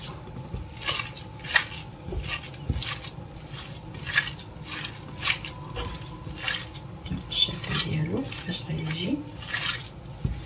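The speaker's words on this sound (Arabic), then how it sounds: "غادي نحرك هذا الخليط ديالي هكا بيدي مزيان" Hand stirring a wet stuffed eggplant mixture in a bowl produces squishy, clinking kitchen sounds with irregular soft scrapes and knocks throughout, fairly close.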